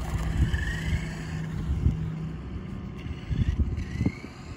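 Traxxas Bandit RC car on a speed test run with an Ovonic 3S 2200 mAh LiPo battery, its electric motor whining in short rising bursts as it accelerates away and back, with wind noise across the microphone.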